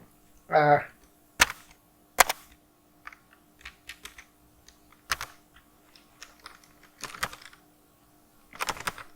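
Keystrokes on a computer keyboard come in sparse, sharp clacks and short bursts while code is entered, with a brief voice-like sound near the start.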